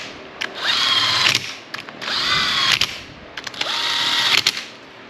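A power tool snugs up transmission bolts on a Suzuki GSXR 1000 engine, three loud whirring bursts of about a second each, separated by short pauses and close by.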